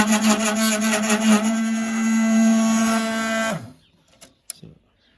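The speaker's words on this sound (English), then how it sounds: "I'm actually impressed with this little motor and gearbox here." Small electric motor and gearbox of a varroa mite vaporizer whine steadily at close range for about three and a half seconds, then wind down and stop, leaving faint clicks and handling knocks.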